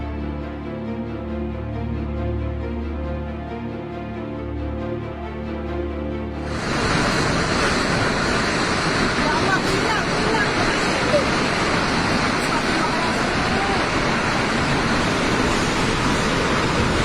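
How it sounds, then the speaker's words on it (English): Floodwater surges through city streets in a loud, continuous roaring rush that cuts in abruptly after a quieter, humming opening and then stays dense and steady, close by. "the surface streets above can become rivers, flooded by tons of rapidly rising water with unstoppable force"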